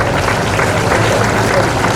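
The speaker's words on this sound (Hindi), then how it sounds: "जोरदार तालियां बजती रहनी चाहिए" Applause fills a public ceremony in Rajgarh as a memento is presented to the chief minister: a dense, steady wash of clapping from a large crowd, continuous and loud throughout.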